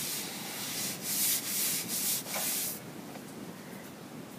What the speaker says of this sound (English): I like to use a sanding fur on the edges.